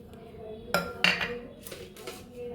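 Pork is mixed with turmeric, garam masala and meat masala in a dish, with a few sharp utensil clinks and scrapes against the vessel over a quiet background.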